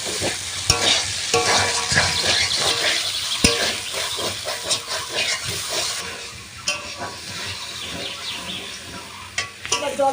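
Potatoes fry and sizzle in oil with well-browned spices, loud and close, with a continuous hiss and repeated scraping stirs of a spoon against the pan.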